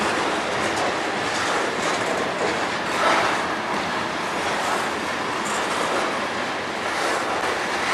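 CN manifest freight train on the Strathroy Sub, led by locomotives CN 3282 and CN 3823, rolling past with a steady, loud rumble and faint clatter of cars, continuous throughout.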